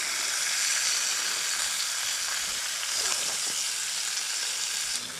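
Food sizzling and frying in a pan on a camp stove during solo wild camping in woodland, a steady close hiss with faint stirring scrapes and no voices.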